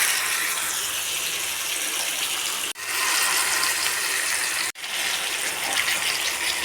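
Fish frying in hot oil on a flat tawa gives a loud, steady, close-up sizzle and crackle that runs continuously, broken by two brief cut-outs.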